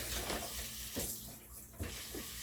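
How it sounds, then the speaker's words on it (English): Water runs steadily from a kitchen tap, a broad hissing flow with a few soft knocks and splashes mixed in. "I gotta turn on the water in order to use the water hose"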